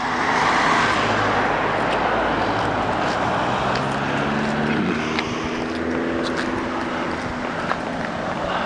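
A car passes along Avenida Dos Venados in Merlo, San Luis, its steady road rumble and tyre noise mixed with outdoor ambience, the engine tone sliding in pitch as it goes by.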